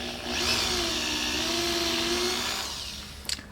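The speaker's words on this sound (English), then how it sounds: "we're going to drill our guide hole" An electric drill spins up and runs steadily with a high whine for about two and a half seconds while drilling a guide hole, then winds down, followed by a light click.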